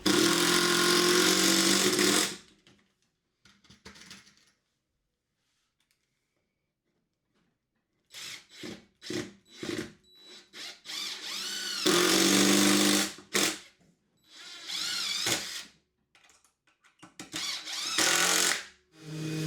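Cordless drill driving screws into wooden 2x4 bench legs, heard in several loud bursts of whirring and grinding separated by quiet pauses.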